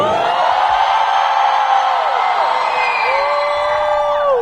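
A large audience at a concert in Hong Kong cheers and screams loudly, a dense sustained roar with high whoops rising over it, steady for several seconds.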